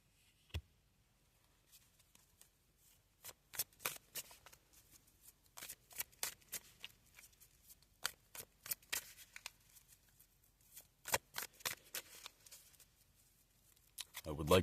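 Quiet, crisp bursts of playing cards being shuffled and riffled, clustered in quick runs with short pauses, close up and soft.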